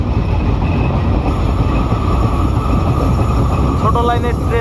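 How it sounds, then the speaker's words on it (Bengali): Oncoming narrow-gauge train on a Bangladeshi line near Ibrahimabad station, a loud close rail roar and rumble that builds steadily, with a brief wheel squeal near the end. "ট্রেনটা ছুটে আসছে একদম"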